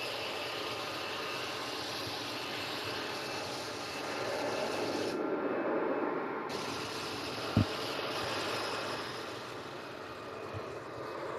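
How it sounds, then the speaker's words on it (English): A steady, distant roar from an EasyJet jet airliner engine at an airport's south side, a broad, even rumble holding throughout with a brief thump partway. "The noise you can hear in the background is an EasyJet screaming out on Southside."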